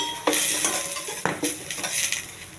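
Onions, curry leaves and cumin fry in oil in a pan, with a steady close sizzle and several sharp scrapes and stirs of a utensil against the pan.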